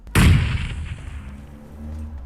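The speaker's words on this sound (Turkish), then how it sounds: "Sıkıntı yok bombadan hasar almadım" A grenade explodes in PUBG Mobile, one sudden loud close blast that dies away into a long low rumbling tail.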